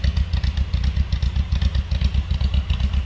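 A 1967 Mercedes-Benz 250SL Pagoda's inline-six engine idles steadily nearby, a low, even, throbbing rumble with a quick regular pulse and light mechanical clatter.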